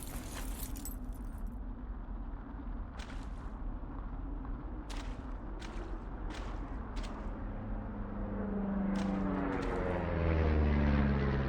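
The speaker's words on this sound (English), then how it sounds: "Plane?" A plane flies over in the video game Firewatch, its engine drone steady and low, then swelling louder near the end as it passes, with light metallic jingling ticks throughout and no voices.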